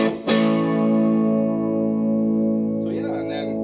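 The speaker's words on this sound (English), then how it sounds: "my delay, and all that is just a little bit of slap back just to give it a little more beef" An electric guitar chord rings out through slapback delay and reverb, struck hard once and left to sustain with a thick, loud tail before some softer picked notes near the end.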